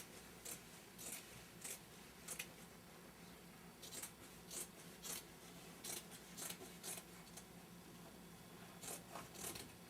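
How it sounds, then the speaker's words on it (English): Scissors snip through slipcover fabric along a chair edge in short bursts of crisp cuts, grouped in twos and threes with pauses between, fairly faint and close. "I'm kind of feeling where the edge is here and cutting along it."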